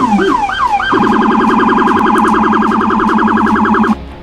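A loud, close police siren with a Rumbler low-frequency siren opens with a few rising wails, then switches to a rapid steady yelp before cutting off abruptly.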